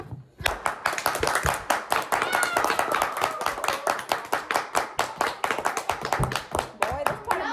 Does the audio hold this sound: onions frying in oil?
no